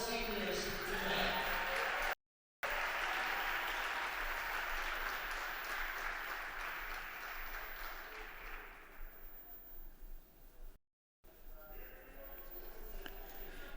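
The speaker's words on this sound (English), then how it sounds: "one more big round of applause for all of our seniors tonight." A crowd applauds the seniors at a high school bocce senior recognition night. The applause swells to a sustained roar, then fades while an announcer talks over the hall.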